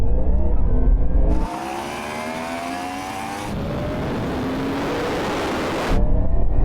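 A Ferrari SF90, Porsche Taycan and Yamaha R1 accelerating in a 50 mph roll-on race, a loud whooshing roar with rising engine whine as they pass at speed, heavy wind noise at the start and end.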